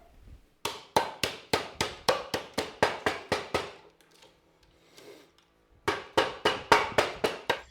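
Rapid bursts of sharp hammer knocks knocking wooden offcuts out, a fast run of strikes, a short pause with faint shuffling, then another quick series of blows.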